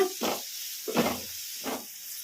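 Grated radish stirred and fried in a pan at home, with three separate scraping strokes over a soft continuous sizzle, close and fairly quiet.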